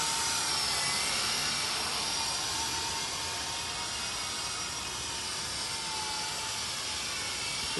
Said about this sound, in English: Pretty challenging to fly these non-gyro helicopters